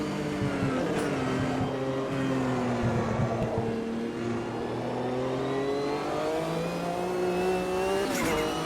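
A race car's engine revs steadily and shifts pitch through gear changes during a World Sportscar Championship race in Automobilista 2, with the car wrecked and closing in to pass a rival, loud and continuous with no voices.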